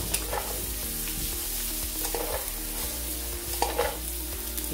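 Cauliflower rice frying in oil and butter in a pan sizzles loudly and steadily, with a few scraping stirs and clinks of a utensil close by.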